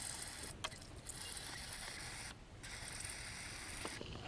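Ratchet clicking and mechanical scraping while loosening a bolt during starter installation on a 2007 Honda CRV, a steady quiet run of clatter with brief pauses, close by and with no talk.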